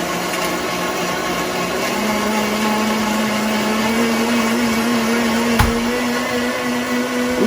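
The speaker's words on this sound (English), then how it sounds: "And now we're gonna blend them in the blender. We blend on a setting 2." Blender running on setting 2 blending drinks in a coffee shop, a loud steady whirring motor hum that holds constant throughout, with no talk.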